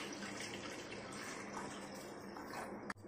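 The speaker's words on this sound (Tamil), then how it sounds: "இப்போ 1 கிலோ சிக்கனுக்கு நாம 1 கிளாஸ் தண்ணியை ஊற்ற போகிறோம்." A glass of water poured into a pressure cooker holding chicken gives a soft, low-level trickling wash that runs steadily for a few seconds before a brief sharp knock near the end.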